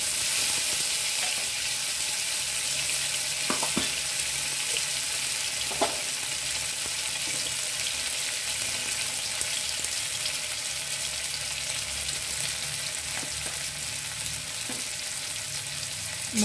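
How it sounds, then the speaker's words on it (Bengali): Whole cumin, ginger, green chilli paste and asafoetida fry in hot oil, giving a steady close sizzle with light stirring clicks and scrapes now and then. "মশলাটা একটু ফ্রাই করে নেব"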